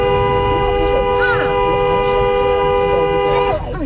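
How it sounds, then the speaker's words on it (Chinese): A car horn blares on a mountain road in one long, loud, unbroken honk lasting over three seconds, close and steady over engine and road noise before it cuts off. "后方同行的友人赶快按喇叭示警"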